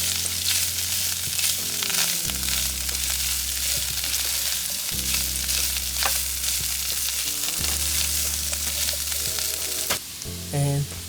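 Sausage and potatoes fry loudly in a pan as they are stirred and tossed together, a steady close sizzle broken by repeated scraping strokes of the spoon, with no one talking.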